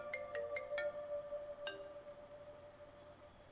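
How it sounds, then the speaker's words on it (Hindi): A phone ringtone chimes in several quick bright electronic notes, then a single later tone, faint against a quiet indoor room hum with a light clink near the end. "फोन देना। मंटो सर ने फोन किया।"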